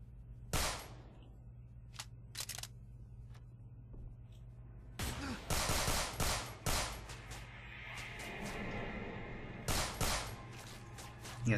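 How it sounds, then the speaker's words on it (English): Automatic assault rifle fire in the PSP game Manhunt 2, scattered sharp single cracks early on, then denser rapid bursts, moderately loud over a low background hum. "He has an automatic weapon, assault rifle."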